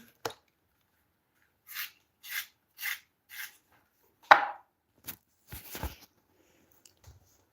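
Several short, raspy scraping strokes sound up close as a pencil is sharpened. They come in separate bursts with silent gaps, and a sharper knock and a few clicks follow.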